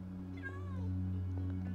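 A space pet cat in a video game gives one short, clear meow over a steady low electronic hum.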